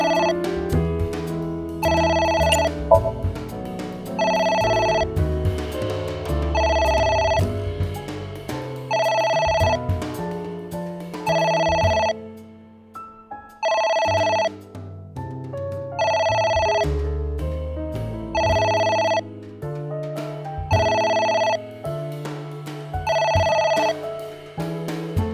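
An old-style telephone bell rings in a puzzle adventure video game, with repeated bursts of ringing in an even on-off rhythm over a layered musical backdrop, loud and continuing for the whole stretch with no talk.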